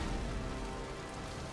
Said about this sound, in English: That much rain.